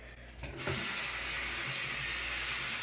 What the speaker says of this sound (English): So I'm gonna rinse this off now